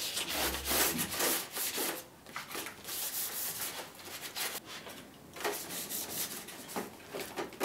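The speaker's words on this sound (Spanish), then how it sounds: "Vamos a lijarlo con la lija de agua del 600." Quiet, rhythmic rubbing strokes of 600-grit wet sandpaper back and forth across a surface, close by, with no talking.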